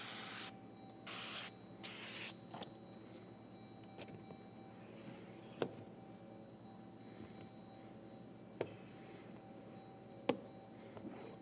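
Three short bursts of a spray bottle while applying ceramic window tint to a Jeep Grand Cherokee windshield, then quieter clicks and a few sharp taps over a low hum.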